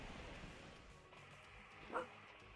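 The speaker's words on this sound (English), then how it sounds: "Shut up, dog." A dog barks once in a video game, a short sharp yelp rising briefly over a steady hum of ambient game sound.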